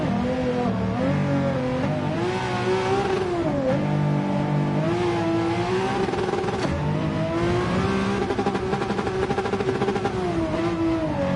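A Pagani Zonda engine revving in Gran Turismo 7, loud and close, with a rising and falling high-pitched howl through repeated throttle blips and gear changes, heard alone without talk.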